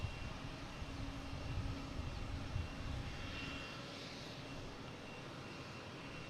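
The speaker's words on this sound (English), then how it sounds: "next coming in, we have a JetBlue" JetBlue Airbus A321neo airliner arriving at Boston Logan from San Francisco, its engines a continuous moderately distant roar that eases slightly toward the end, alone with no talk.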